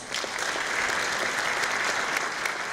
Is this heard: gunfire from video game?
no